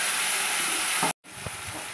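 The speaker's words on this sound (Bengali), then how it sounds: "এবার আমি টমেটো পেস্টটা দিয়ে দিলাম।" Tomato paste hits a hot frying pan with a steady, loud broadband sizzle and hiss, briefly cutting out to silence before the frying resumes a little quieter.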